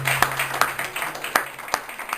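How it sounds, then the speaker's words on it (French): Audience applause at a ceremony honoring local websites in El Jadida, Morocco, heard as scattered, modest clapping with sharp individual claps repeating over a couple of seconds. "représenté ici par Karima Lebab, que je vous demande d'applaudir, s'il vous plaît."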